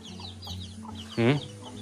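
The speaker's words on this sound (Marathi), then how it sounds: "कोंबड्यांचा आवाज येते." A single short burst of hen clucking rises briefly over a quiet farmyard background, near and moderately loud.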